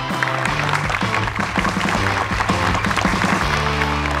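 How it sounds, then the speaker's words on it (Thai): Audience at a Thai televised stage event applauds steadily for several seconds, dense clapping blended with music. "ขอเสียงปรบมือให้กำลังใจคุณโรสิตาด้วยครับ"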